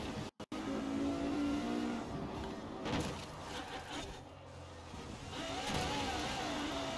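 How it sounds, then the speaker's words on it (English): In the Forza Horizon 4 video game, a racing car engine revs and accelerates loudly, surging and falling through gear changes with brief tire squeal, after two short cuts to silence near the start. "this car used to be so easy to drive"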